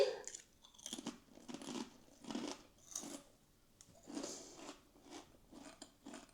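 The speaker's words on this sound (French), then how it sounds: "je finis au moins la chips entière et je ne la recrache pas" A crunchy potato chip being chewed up close, with a series of irregular crisp crunches and crackles over several seconds at moderate loudness, and no talking.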